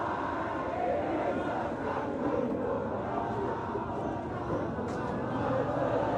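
A large crowd at an outdoor street protest keeps up a dense, continuous roar of clapping and cheering, loud and close throughout.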